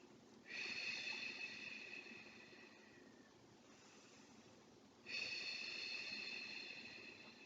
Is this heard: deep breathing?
yes